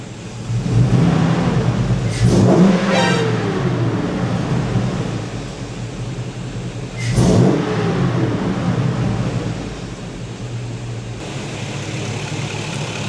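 An LS-swapped car engine revs under throttle, two sharp rising bursts over a steady running drone, fairly close and loud, with no talking.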